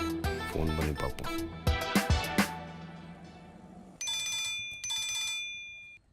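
A telephone rings in bursts of electronic trilling, with busy indoor sounds and short tonal notes first, then two clear ringtone bursts near the end, fairly close and loud.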